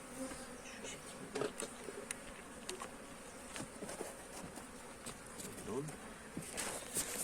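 A dense, steady buzz of many honeybees fills the air close by from an open hive crowded onto three frames, with scattered small knocks and taps over it.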